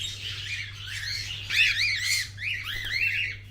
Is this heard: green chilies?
no